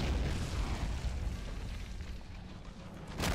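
A heavy tank fires in Men of War Assault Squad 2, with a deep booming blast and a rumbling tail of low noise, ending with a second sharp burst.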